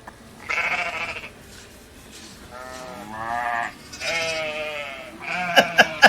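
A sheep bleats several times in a row, loud and close, with wavering drawn-out calls and a few sharp clicks near the end.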